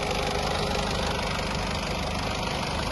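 A 2014 Honda City diesel engine with manual transmission idles steadily and close by, a continuous low rumble with an even mechanical patter and no talking.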